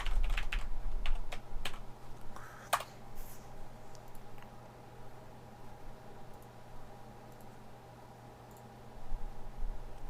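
Typing on a computer keyboard while writing code, with a quick burst of key clicks at the start and occasional sparse keystrokes later over a steady low hum, fairly quiet.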